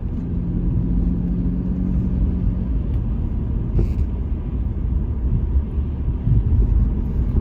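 A car pulls hard out of a bend on a country road, its engine rumbling steadily and close up from inside the cabin, with low road and wind noise throughout and no talking.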